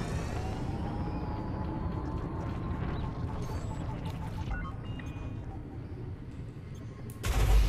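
Spaceship weapons in a space combat video game keep up a dense, continuous mechanical rattle of rapid fire against a ship pulled out of Super Cruise, with a louder burst near the end.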